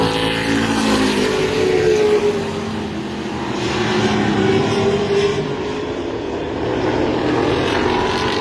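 Race cars roar around a motorsport oval track, a loud continuous engine drone that swells and fades as the cars run side by side past the listener.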